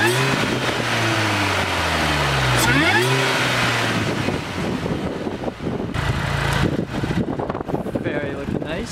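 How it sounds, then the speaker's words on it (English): A 2002 Mini Cooper R53 engine cranks and catches, then settles into a rough, rumbling idle close by, with a person speaking briefly over it. "now I'm going to start up the engine"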